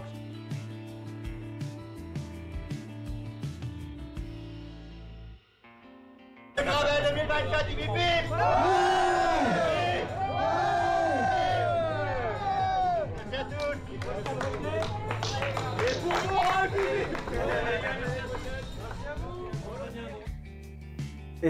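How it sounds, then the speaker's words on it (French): A crowd at a cycling event finish in La Flèche, France, claps and cheers with steady, dense applause and voices that swell and continue, while music plays underneath. Earlier there is a quieter stretch of music. "Vous pouvez l'applaudir très très très fort."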